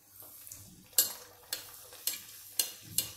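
Puris frying in hot oil, a soft sizzle under a series of sharp metallic clinks and scrapes from a utensil against the pan, roughly five evenly spaced hits.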